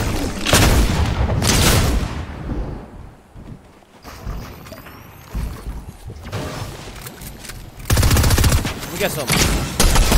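Rapid-fire weapon gunfire in the Fortnite video game, loud bursts of shots with explosive booms scattered through the scene and a voice talking briefly over the action.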